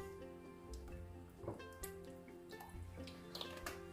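Olive oil poured into a homemade pumpkin and carrot soup simmering in a pot, a soft continuous liquid trickle with bubbling and light drips over steady kitchen hum, fairly quiet throughout.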